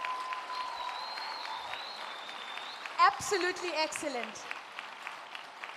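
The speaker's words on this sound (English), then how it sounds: "Let's give them a round of applause, please." Conference audience applauding women agripreneurs standing around the room: a brief moderate burst of clapping rises in the middle and fades, while a speaker talks over the room before and during it.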